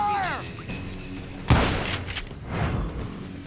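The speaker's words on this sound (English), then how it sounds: "We're under fire!" Gunfire in the western video game Call of Juarez Gunslinger at a camp outside Parachute, Colorado: after a brief tone, a sharp shot lands, followed by a few more scattered bangs amid background game sound.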